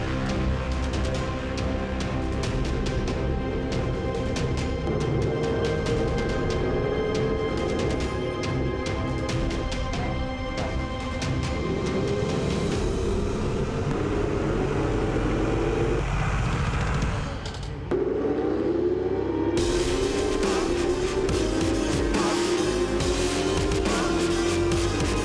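Ferrari Challenge race cars roar off the line at the Coppa Shell race start at Le Castellet, a dense, sustained pack of engines rising in pitch through upshifts, with a brief dip before the din swells again.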